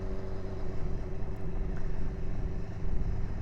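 BMW S1000XR motorcycle with a remapped ECU pulling away on a test ride, a steady low engine drone that rises slightly near the end, heard from on board with no talking.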